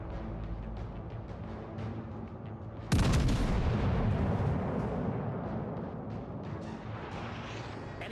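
Heavy naval guns from a warship in World of Warships Legends, a single loud booming salvo erupting a few seconds in and rolling away slowly over a steady background rumble.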